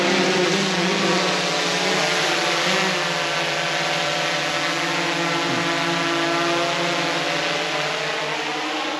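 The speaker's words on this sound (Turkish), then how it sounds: "Drone'umuz gidiyor." A drone takes off and flies during a caravan camp in Cappadocia, a steady, loud propeller whine and buzz that holds for several seconds with little change in pitch, alone without talk.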